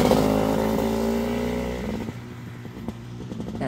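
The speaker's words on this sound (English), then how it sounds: "Here comes a motorcycle." A motorcycle on a country road, its engine loud and near at first with a steady drone, then fading as it passes and recedes into the distance.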